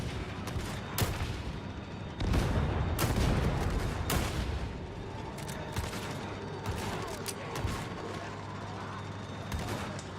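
A grenade goes off amid heavy gunfire in the video game Warhammer 40k Darktide: loud blasts and booms cut through rapid, sustained shooting and battle noise, with faint voices underneath.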